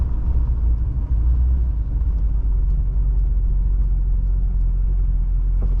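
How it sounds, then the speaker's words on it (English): 1970 Mercedes-Benz 300SEL 6.3 driving over rumble strips, heard from inside as a loud, steady low rumble and road drone with a brief rhythmic thrumming early on, no talking. "So those are rumble strips, and the way the suspension absorbs the vibrations is insane."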